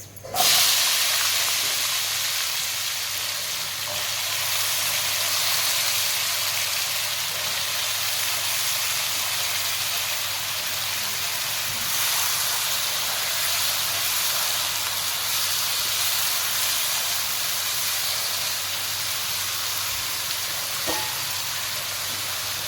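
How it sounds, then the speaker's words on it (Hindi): Steady loud hiss of potatoes sizzling in oil with lightly browned cumin and black pepper, a continuous frying sound that sharpens at the start and holds evenly throughout. "अब मैं इसमें आलू शामिल करूँगी।"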